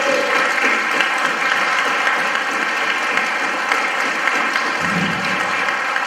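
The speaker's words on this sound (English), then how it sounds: "I think Lori deserves one big round of applause." Church audience giving a big round of applause for a choir director at a seniors' choir concert, loud, dense and continuous clapping filling the room from start to finish.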